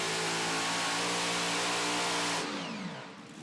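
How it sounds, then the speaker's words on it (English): A blue pulling tractor drags a sled down the track at a tractor pull, its engine a loud, sustained roar that drops in pitch and fades near the end as the run winds down. "Scott Tedder's trying to take that blue tractor and that blue sled all the way out across the stripe"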